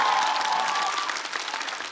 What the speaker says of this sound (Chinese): 场下掌声雷动